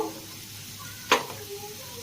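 Potatoes fry in a pan with a faint, steady sizzle, broken once by a short, sharp scrape as the pieces are stirred.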